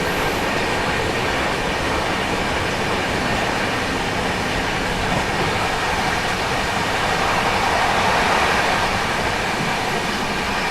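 Mangla Lakshadweep Express running at speed through Rani Kamlapati station, a steady loud roar of wheels and rattling carriages filling the whole stretch without letup, no voices.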